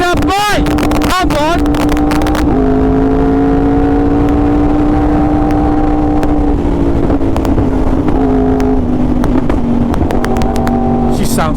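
A Yamaha R1 superbike engine roars loud and close, with a sharp rising rev at the start, then a sustained high drone that drops and climbs again through gear changes, under wind buffeting.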